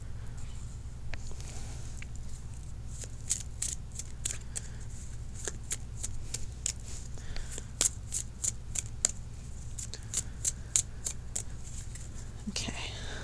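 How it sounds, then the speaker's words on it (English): Tarot cards are dealt into three rows of four, each one snapping down in a quick, close run of crisp flicks and taps over a soft hum, with faint whispery handling between placements. "Now I'm going to put 4 cards in a row, 3 rows for 12 cards."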